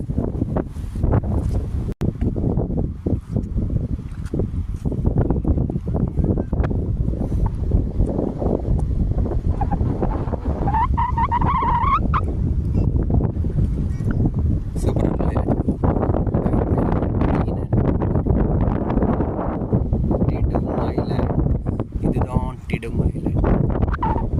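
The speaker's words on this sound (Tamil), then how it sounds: "டிடுங் ஐலண்ட் காற்று எப்படி அடிக்க பாருங்க" Steady wind rushes and buffets across the microphone outdoors on Tidung Island, Indonesia, with people talking over it.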